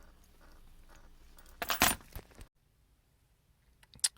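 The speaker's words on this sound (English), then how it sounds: "I'm just going to pull the appropriate keys until I get the right one." Car keys for a Pontiac Vibe or Toyota Matrix jangle on a ring as they are sorted, a short metallic burst in the middle followed by near silence and a final brief clink.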